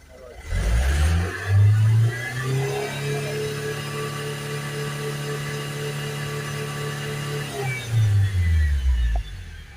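Vauxhall Vivaro van diesel engine with a blocked particulate filter revving up from idle, rising to a loud sustained high-rev drone for several seconds, then falling back, a close steady engine roar throughout.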